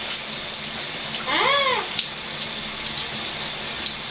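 A pet bird bathes under running water, giving a steady close hiss of splashing spray. One short chirp rises briefly above the water noise.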